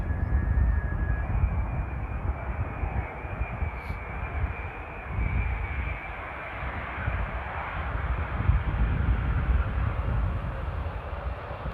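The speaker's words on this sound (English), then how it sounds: "Nice Delta A330 Neo." A Delta Airbus A330neo arrives at Amsterdam Airport, its engines a steady, broad roar with low rumble that holds fairly constant throughout, a faint tonal whine riding on top early on, with no talk.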